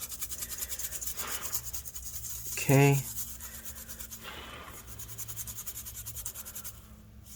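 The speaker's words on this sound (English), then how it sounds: "we're just going to use a toothbrush and kind of scrub that stuff out" A toothbrush scrubs liquid-spill residue off the logic board of a 2020 M1 13-inch MacBook Pro A2338. Close, bristly rubbing strokes come in a few short bursts, and a person briefly says a word partway through.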